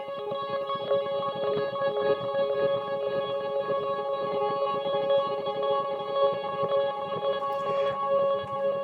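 Sustained synth pad opening a song, played live at a full-band gig without an amp: steady layered harmonic tones with effects and reverb holding evenly for the whole stretch, alone with no voices.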